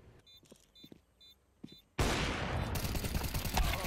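Glock pistol fire in Counter-Strike, a loud, dense burst of shots that starts suddenly halfway through after quieter game ticks and beeps, close and continuous to the end.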